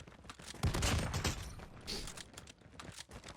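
An Einhorn shotgun in the game COD Mobile fires a quick burst of blasts with clicking mechanical handling, heard faintly in the mix.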